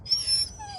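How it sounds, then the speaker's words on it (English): A dog gives a brief, close, high-pitched whining yelp, a short wavering cry of under a second, heard alone. "all that yapping and barking,"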